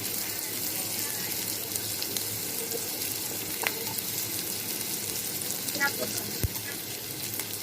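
Onions fry in oil with cumin and garlic, a steady loud sizzle with a few clinks and stirring sounds and no talk.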